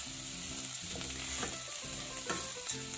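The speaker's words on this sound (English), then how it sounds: "Stir them around a bit, mix them up with the onions and the garlic." Roasted peanuts are stirred with fried onions and garlic in a pan for chicken satay, a soft sizzle broken by rhythmic scraping strokes of a spatula, close and fairly quiet.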